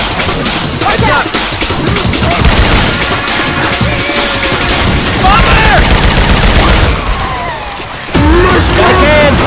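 Rapid gunfire from Syphon Filter weapons swapped into the Left 4 Dead 2 video game, dense loud bursts and continuous shots with game voices talking over the shooting.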